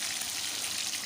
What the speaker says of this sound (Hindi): मैंने इसको तलने के लिए रख दिया